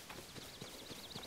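Horse hooves clip-clopping in The Legend of Zelda: Tears of the Kingdom, a steady run of soft, evenly spaced hoof beats at moderate volume, with no talk over them.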